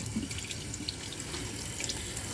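Water runs steadily through the jets of a dishwasher spray arm as it is checked for clogs during cleaning, a continuous close splashing trickle with no talking.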